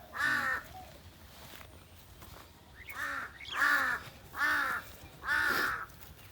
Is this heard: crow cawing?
yes